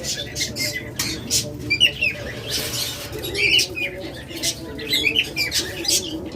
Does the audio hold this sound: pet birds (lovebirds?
yes